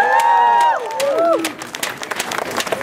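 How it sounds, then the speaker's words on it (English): Audience at a political support rally claps after a voice speaks briefly, a short burst of scattered applause rising and thinning out toward the end. "give her another round of applause"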